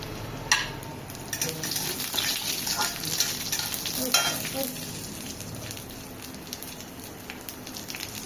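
Whole spices, namely cardamom, cinnamon, bay leaf and cumin seeds, frying in oil with salt. A busy crackling sizzle runs throughout, with occasional sharper pops and scraping stirs, close and steady and with no talking.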